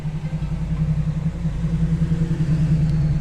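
The engine of a second-generation 1971 Camaro rumbles steadily at close range, a low, even idle with a faint mid-range hum and no voices.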